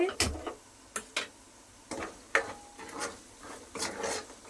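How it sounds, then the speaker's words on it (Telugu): A household gas stove is lit in a home kitchen where curry is cooking, giving a handful of sharp, separate ignition clicks and raspy ticks spaced irregularly against a quiet background, with a voice talking in between. "గ్యాస్ వెలిగిస్తున్నా, ఇందాక మర్చిపోయానండి"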